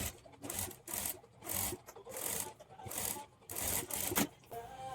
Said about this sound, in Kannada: ಇಲ್ಲಿ ನಾನು ಹೆಮ್ಮಿಂಗ್ ಮಾಡ್ತೀನಿ, ಅದಕ್ಕೋಸ್ಕರ ಒಂದು ದೊಡ್ಡ ಸ್ಟಿಚ್ಚನ್ನು ಹಾಕ್ಕೊಳ್ತೀನಿ.